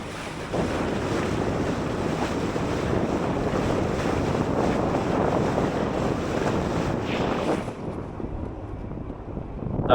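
Rushing water from a boat's bow wave during a sea trial, a steady broadband wash mixed with wind buffeting on the microphone, continuous and close before easing near the end.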